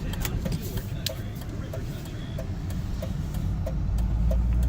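A 1997 BMW 528 (E39) sedan accelerates gently, its engine giving a steady, close low drone that swells slightly toward the end.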